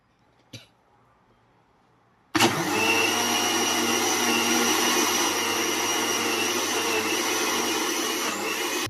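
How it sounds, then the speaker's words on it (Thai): An electric blender starts abruptly and runs with a loud, steady whirring drone as it mixes flour with coconut milk for layered pandan and butterfly pea dessert, preceded by a brief click. "เราจะมาปั่น ปั่น แป้งนะครับ ใส่กับกะทิไปเลยครับ"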